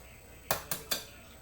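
Three quick, evenly spaced clinks as eggs are cracked against a mixing bowl of banana bread batter, close and crisp in a quiet kitchen.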